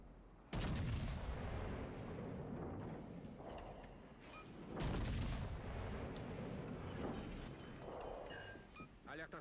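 Heavy naval gun salvos in World of Warships Legends, two deep booming blasts several seconds apart, each with a long rumbling roll, loud over a continuous battle din.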